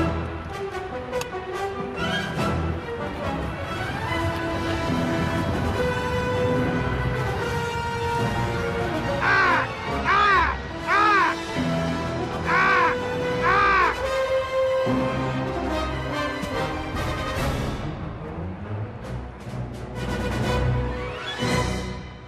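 A flock of crows gathering around a man on open ground gives a short series of harsh, rising caws at a middle distance, spaced roughly a second apart, over a busy, steady background.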